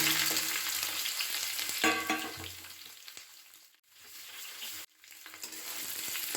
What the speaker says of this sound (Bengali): জলপাইটা ডাইরেক্ট আমি কড়াইতে দিয়ে দিলাম